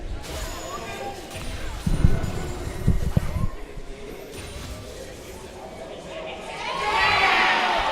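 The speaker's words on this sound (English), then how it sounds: "Got some pretty good crowds going here." Crowd at a League of Legends grand finals esports match roars in bursts, with sharp cheering swells near the middle and a rising, sustained wave of noise toward the end, distant and echoing over a steady hall murmur.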